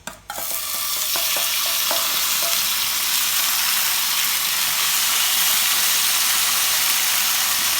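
Thin slices of beef for a stir-fry hitting a very hot pan, setting off a loud, steady sizzle and hiss that holds constant throughout, close up and with no talking.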